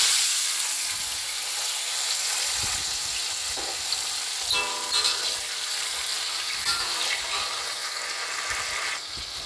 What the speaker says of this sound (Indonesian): kita goreng rimbang selayang ya teman-teman